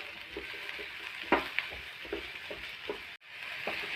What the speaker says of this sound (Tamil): லைட்டாக எண்ணெயில் நல்லா வதக்குவோம் ஃப்ரெண்ட்ஸ்